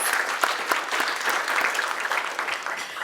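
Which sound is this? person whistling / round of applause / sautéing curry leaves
round of applause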